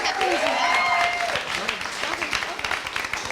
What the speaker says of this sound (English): And round of applause, one more for Marko as well.